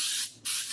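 Cooking spray hisses into a 13 by 9 quarter sheet cake pan for a strawberry cake, one close aerosol burst that briefly dips, then surges back.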